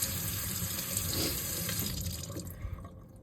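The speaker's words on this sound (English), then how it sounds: "I'll rinse everything off," Tap water runs steadily into a sink while a straight razor and a Scottish Tam-O-Shanter hone are rinsed under it, a soft continuous splash that thins out toward the end.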